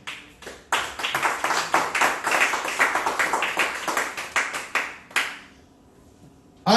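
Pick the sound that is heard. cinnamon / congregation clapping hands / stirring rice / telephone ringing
congregation clapping hands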